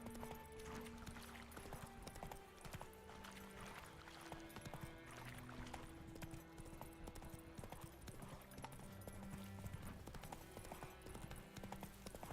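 Roach the horse gallops in The Witcher 3, with steady rhythmic hoof clip-clops over a busy game soundtrack and no voices.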